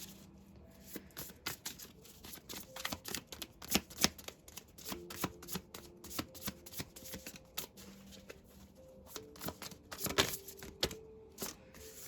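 Tarot cards handled and drawn from a deck during a reading, giving a steady run of crisp slaps, flicks and riffling shuffles close up, with a few sharper snaps and no talk over them.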